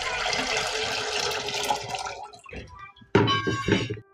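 Water is poured into a cooking pot on a kitchen gas stove, a steady splashing stream for a couple of seconds, then a brief pause and a sharper second gush of liquid.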